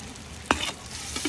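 Butter melting and sizzling in a pan before garlic goes in for carbonara: a soft, steady close sizzle with a single sharp clink of a utensil partway through, no voices.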